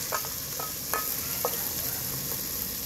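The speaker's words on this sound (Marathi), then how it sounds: "वाटण खूप छान तेल सुटेपर्यंत परतून घ्यायचे" Masala paste for mutton curry frying in oil, a steady low sizzle with several quick, light scrapes of a spoon stirring in the pan, close up and fairly quiet, without speech.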